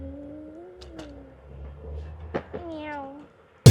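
A cat meows a few times outdoors in Houston, a short series of tonal cries close by over a low background hum, ending in a sudden loud noise.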